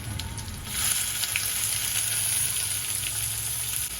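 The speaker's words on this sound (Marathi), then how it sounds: "कांदा आपण छान परतून घेऊया" Onion frying in hot oil with curry leaves and asafoetida for sukka zunka, a steady close sizzle that holds without pause.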